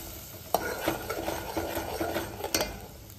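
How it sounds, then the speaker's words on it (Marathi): Butter chicken gravy being stirred in a pan: repeated scraping and clinks of a spoon against metal over a soft simmering sizzle, close and moderately loud, with no talking. "आता आपण ग्रेव्ही टाकून घेतली, मस्त मिक्स करून घ्यायचं."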